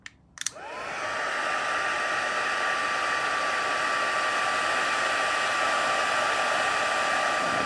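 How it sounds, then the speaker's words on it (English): A craft heat tool drying a watercolour card starts with a couple of clicks and then blows a steady, loud whooshing hum with a constant tone, unbroken and alone for several seconds. "And then I'm gonna bring in my heat tool and dry this a little bit."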